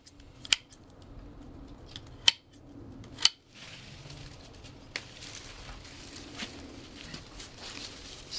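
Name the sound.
pruning cuts on sago palm thorns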